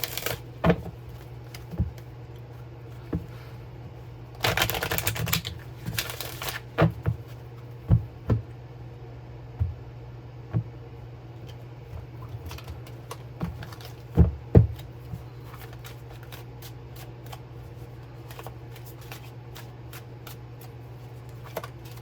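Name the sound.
shuffling oracle cards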